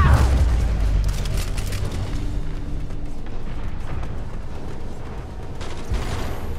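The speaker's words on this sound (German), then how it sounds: "eine Explosion!" A loud rumbling blast in the video game Spider-Man on PS4 opens the stretch, then a long roaring, crackling tail of debris and rumble that slowly settles.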